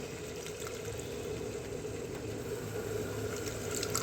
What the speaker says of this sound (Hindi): अब हम इसमें पानी डाल रहे हैं करी के लिए